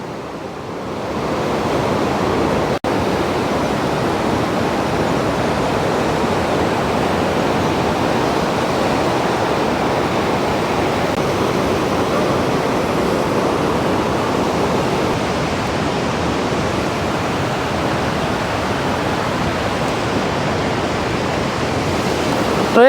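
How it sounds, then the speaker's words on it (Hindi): Steady roar of waterfall water pouring out of a cave at Aharbal in Kashmir, a loud, unbroken rushing wash heard close up with no other sounds over it. "इस केव में से आ रहा है पूरा पानी निकल के, जो वाटरफॉल का पानी है ना वो"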